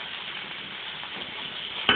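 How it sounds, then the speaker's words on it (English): A hot pan after cooking steak sizzles and fries, a steady, close hiss that continues unbroken, ending with a short clatter at the very end. "I'm just going to let that pan just fry itself to death"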